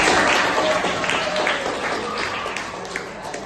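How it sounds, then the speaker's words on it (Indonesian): A classroom full of students claps together in a continuous burst of applause that stays loud, then thins slightly toward the end, with a voice faintly audible underneath. "Wah, tepuk tangan."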